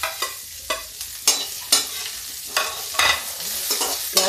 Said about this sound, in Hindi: अब इसी में प्याज डाल देते हैं।